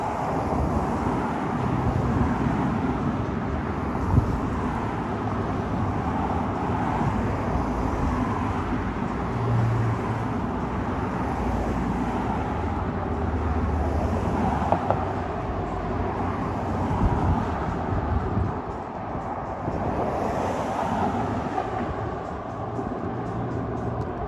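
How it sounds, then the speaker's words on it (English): Cars drive by on a street, a steady, fairly distant traffic rumble with gentle swells as vehicles pass, mixed with light wind noise on the microphone. "I left the audio on so you can hear the cars driving by."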